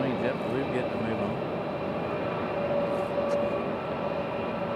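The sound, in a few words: JetBlue Airbus A320 starting to taxi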